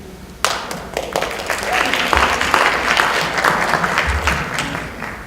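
A crowd at a civic community event breaks into sustained applause, dense and close, steady clapping rising and lingering for several seconds.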